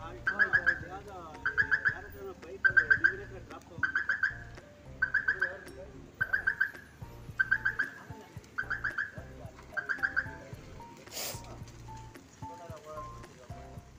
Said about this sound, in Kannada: ಪಕ್ಷಿ